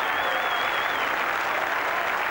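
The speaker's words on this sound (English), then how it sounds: "The crowd showing their support." A stadium crowd at Knowsley Road applauds during a 1990 rugby league match between St Helens and Australia, producing a dense, steady roar of clapping that fills the space continuously.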